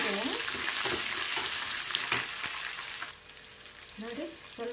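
Sliced onions dropped into hot oil with fried urad and chana dal for tamarind chitranna, a loud continuous sizzle with stirring scrapes that eases off partway, then picks up again softly.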